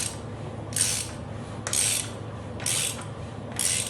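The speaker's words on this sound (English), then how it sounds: "I would spin that crankshaft a couple of times" A Fiat 1300cc engine crankshaft is turned by hand in four slow, evenly spaced ratcheting, whirring strokes, close up and moderately loud, with faint mechanical clicks between them.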